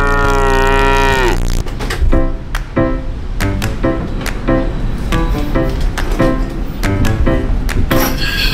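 Cow mooing loudly and close for over a second, a long drawn-out low call, followed by lively chatter and exclamations from several people with clattering noise.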